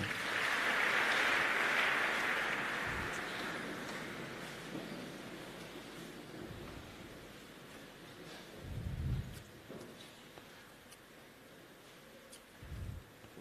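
A church congregation at a French-language service breaks into broad, hissing applause that is loudest at the start, then fades over several seconds into a quieter room with a few scattered thumps.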